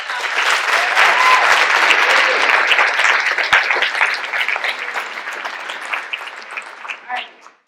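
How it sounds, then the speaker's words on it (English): An audience at a dance troupe performance claps loudly and densely, the applause sustained for several seconds before gradually thinning into scattered individual claps and fading out. "So please give them one more big round of applause."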